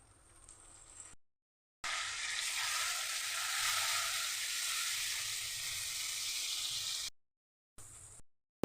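Ground turmeric, chili powder and ginger paste fry with a splash of water, a steady broad hiss of sizzling that runs several seconds between short silent gaps, fairly faint.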